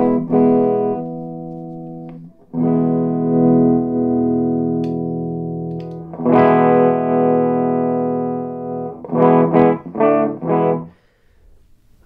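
Electric guitar played through a home-built clone of the Tube Screamer 808 overdrive pedal: long ringing chords, then a cluster of short, choppy stabs, up front and steady in level.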